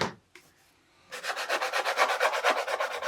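Grainy dry media ground brushed or rubbed across a canvas, a rapid rhythmic scratching much like sandpaper, close and alone after a brief quiet start.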